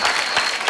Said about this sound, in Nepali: ताली बजाउँ उहाँको लागि